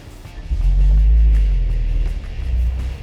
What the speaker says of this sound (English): Motor kicked on.